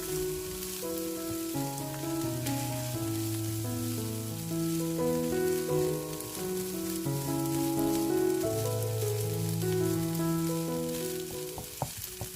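Butter fried rice with grated carrot sizzling steadily in a pan, a continuous frying hiss that runs under louder background music for the whole stretch, with no talking.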